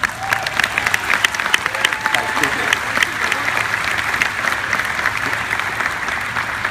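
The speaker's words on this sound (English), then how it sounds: "how about a nice round of applause for the convention staff?" A convention audience gives a loud, sustained round of applause for the staff, with dense clapping that holds steady throughout.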